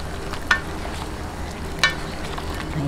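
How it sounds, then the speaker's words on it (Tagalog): Bicol Express of chicken feet simmering in coconut milk with chili is stirred in a pan, a steady low sizzle broken by two sharp scrapes of the spoon against the pan, with no talking. "haluin lang natin"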